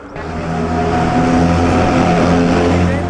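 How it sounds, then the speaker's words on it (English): A Mercedes Gullwing road race car at the Mille Miglia runs its engine in a steady, loud, close drone with a strong buzzing tone. "Yeah, and Gull Wing Mexico road race car."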